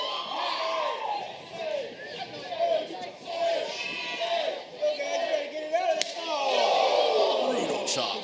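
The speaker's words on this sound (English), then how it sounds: "Brutal chop from Dante." Crowd noise fills a pro wrestling arena as sharp open-hand knife-edge chops land on a wrestler's chest, a few crisp slaps cutting through the murmur and cheers while a commentator talks.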